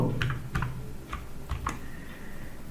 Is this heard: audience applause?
no